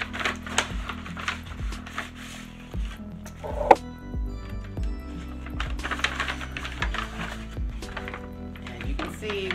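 A mailed package is cut open and unpacked, giving soft rustling, tapping and crinkling handling noises at close range under steady background hum, with a sharper knock near the middle.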